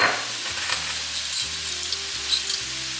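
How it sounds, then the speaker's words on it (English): Food sizzles loudly and continuously in a pan while a spoon stirs it, adding occasional scrapes over a low steady hum. No one speaks. "and then I'm going to stir it and cook for 1 minute."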